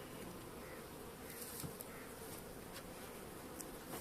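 Caucasian and Carniolan honeybees from a full, unreduced colony ready for winter hum steadily around an open hive, a soft continuous buzz with occasional individual bees passing near.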